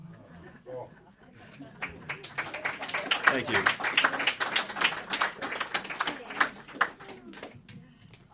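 Audience applause at a Friday night concert after the performers finish a song: scattered claps build into several seconds of lively, close clapping, then taper off, with a brief spoken thanks over it.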